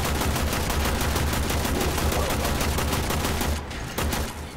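Gunfire in Warframe combat, a loud, unbroken rattle of rapid automatic shots that fills the scene before briefly thinning near the end.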